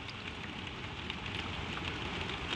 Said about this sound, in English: The rain falls soft and far away.